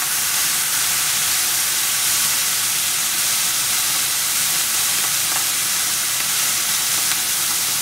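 Abalone hits a hot pan in a steady, loud broadband sizzle with hissing steam that holds evenly from start to finish, with no voices over it.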